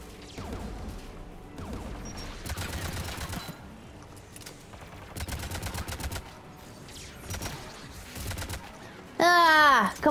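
Bursts of rapid automatic gunfire from the video game Mass Effect crackle in several clusters across a busy combat soundscape, loud and repeated, ending in a sudden burst of bright synthetic tones.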